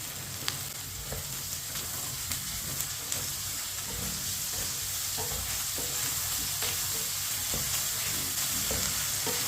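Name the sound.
stirring ginger and garlic while frying in a pan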